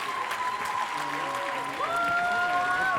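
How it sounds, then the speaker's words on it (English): Audience applause for guest speakers at an evening celebration at the Vogue theatre in Vancouver, a steady wash of clapping from a crowd that runs the whole time, with a tonal musical line and a voice faintly over it. "big round of applause for all the guest speakers tonight"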